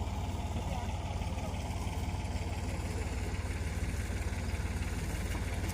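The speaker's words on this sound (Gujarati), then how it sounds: "જો લો ટ્રેક્ટરથી દવા છાંટે છે" A tractor engine idles and chugs steadily in a field while pesticide is sprayed from it, a low even rumble at moderate distance with no voices over it.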